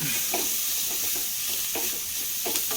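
Onions, green chillies and curry leaves sizzle steadily in a pan, with soft scraping stirs recurring every half second or so over a constant frying hiss.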